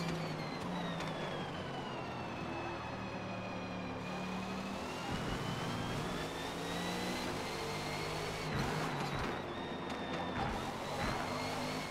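A Bentley race car in Forza Motorsport holds a steady high engine whine that climbs and dips with the gears, running continuously at moderate level with no talk over it.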